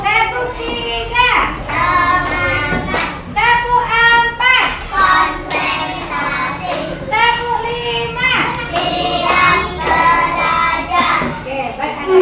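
Schoolchildren in an elementary classroom clapping in counted bursts, sharp repeated claps grouped in sets between a teacher's spoken counts and children's voices.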